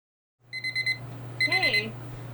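A kitchen timer goes off with a quick series of bright electronic beeps, followed by a second burst of beeping with a brief sliding tone, close and clear.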